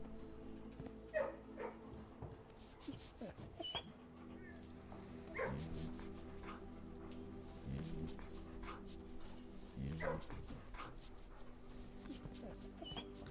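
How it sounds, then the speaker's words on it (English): A dog barks and yips in the video game Blue Prince, several short barks spaced across a steady musical game background, moderately loud and without speech. "Dog."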